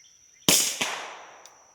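A single sharp report from a Silencerco-suppressed gun, loud and close, with a short decaying tail and a faint second snap just after; a steady high whine sits in the background.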